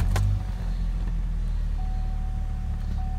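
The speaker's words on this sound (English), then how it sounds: "Now, I am going to start it up again for you" A 2007 Saturn Sky engine cranks and catches with a brief loud burst, then settles into a steady low idle nearby while a thin dash chime tone sounds.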